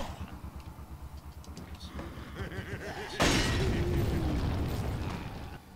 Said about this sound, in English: I'm actually going to use my last grenade